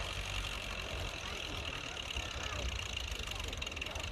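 A vintage wood-gas tractor engine pulls a loaded cart at a veteran tractor pulling contest, giving a continuous low rumbling drone at steady level throughout, with crowd noise mixed in.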